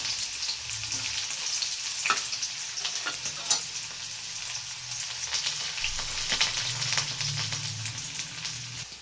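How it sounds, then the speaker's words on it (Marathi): Onions fry in a hot pan for a radish stir-fry, a steady close sizzle broken by a few soft stirring scrapes, with no voices. "आता आपल्याला त्याच्यामध्ये टाकायचा कांदा आणि कांदा छान असा परतून घ्यायचा."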